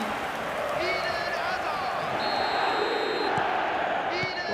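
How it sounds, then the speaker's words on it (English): Stadium crowd noise from the eFootball 2026 football video game, a steady broad roar of spectators reacting after a goal, with whistles and faint shouts rising over the din and commentary voices talking beneath. "the crowd are reacting to that now"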